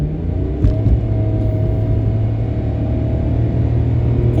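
A 2021 Mitsubishi Mirage accelerates at full throttle on a highway, heard from inside the cabin as a steady, loud engine drone rising in pitch over a low road rumble.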